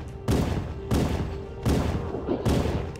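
Gunfire in Halo: Combat Evolved, a series of four loud, heavy bursts of repeated shots spaced about a second apart, close and dominant, with no talk.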